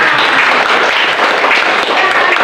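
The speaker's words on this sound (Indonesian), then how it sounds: "Ya, tepuk tangan." Students in a vocational high school classroom clap together, a dense, steady burst of applause lasting a couple of seconds, close and loud.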